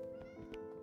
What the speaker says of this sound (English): Man, we better not have like a bajillion cats.